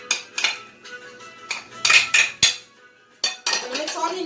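Pumpkin and grated coconut being mixed in a bowl for Trinidadian paime, with a utensil clinking and scraping against the dish in irregular bursts, close and fairly loud with short pauses between strokes.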